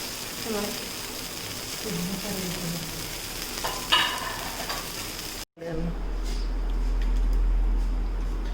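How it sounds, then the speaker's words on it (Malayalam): Mustard seeds crackle and sizzle in hot coconut oil in a pan with sporadic sharp pops, then the sound cuts briefly and the frying continues more quietly. "ചട്നിക്കുള്ള കടുക് നമ്മൾ പൊട്ടിക്കാൻ പോകണം അതിന് വെളിച്ചെണ്ണ ഒഴിച്ച്"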